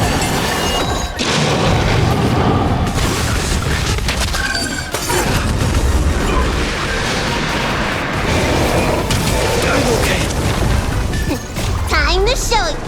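Explosions detonate in the video game Honkai: Star Rail, loud booming crashes and bursts packed densely over continuous battle effects and music, with a short whooshing sweep near the end.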